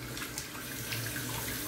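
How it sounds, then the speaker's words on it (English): Water runs and drains out of a bathroom sink, a steady, faint gurgling rush that continues evenly and alone with no voices. "I'm gonna let some of this water out here in the sink."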